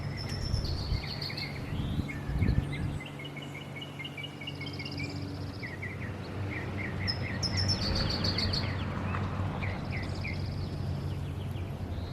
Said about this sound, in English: Actually, those birds chirping are awesome.